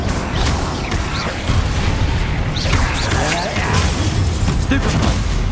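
A Confringo fire spell blast in Hogwarts Legacy comes through as repeated booming impacts and clanking mechanical noise, loud and dense throughout, mixed with a voice.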